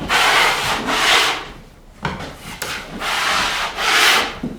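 Joint compound being spread with a drywall knife over screw-head depressions in the center of plasterboard wall panels, a steady close scraping rub in long repeated strokes with a brief pause midway.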